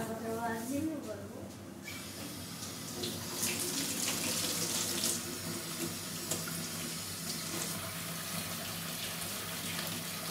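Water runs from a tap in a steady hissing stream, with brief talking at the start and light clattering underneath.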